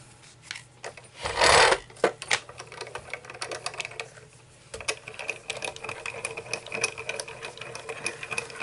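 A die cutting machine runs with a loud mechanical whir for about half a second early on, followed by clicks and a steady lower rattle as the craft piece for a Halloween treat project passes through.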